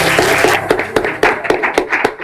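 Studio audience at the Kon Banega Lakhpati game show applauding a correct answer, a short, loud burst of dense clapping with sharp individual claps that stand out near the end.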